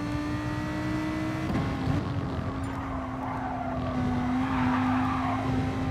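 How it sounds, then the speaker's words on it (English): A race car's engine revs in Gran Turismo Sport, a steady droning note with a sustained pitch that rises slightly and holds, loud and continuous with faint tire noise and no talking. "I can rev it up."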